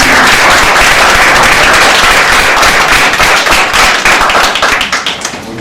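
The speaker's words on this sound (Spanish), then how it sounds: "Un fuerte aplauso para el ingeniero Barrera." A lecture audience at a science talk on Japan's nuclear emergency gives loud, close, crackling applause to welcome an engineer. It holds strong, then thins into scattered claps at the end.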